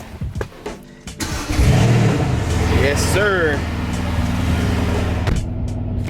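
A tuned Nissan R32 Skyline running on E85 starts up and accelerates hard, its engine note building into a steady, loud drone with rising tones partway through; someone speaks briefly over it.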